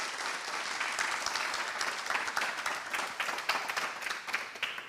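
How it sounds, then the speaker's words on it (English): A round of applause at an awards ceremony as a speaker is welcomed, a steady, dense crowd clapping that carries on evenly throughout, fairly faint and heard from a distance. "Please, a big round of applause for him."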